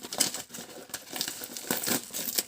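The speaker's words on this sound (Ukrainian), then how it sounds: "Ну що ж, приступимо до розпакування." Crinkly plastic packaging of an AliExpress parcel being unwrapped up close, continuous rustling and crumpling with a few sharper crackles and tearing sounds.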